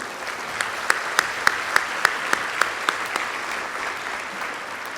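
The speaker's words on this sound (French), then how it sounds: "Je tiens à ce qu'on applaudisse tous les élus lavallois." Applause for elected officials at a large community iftar gathering, steady crowd clapping with a few sharp individual claps standing out near the front, continuous for the whole stretch.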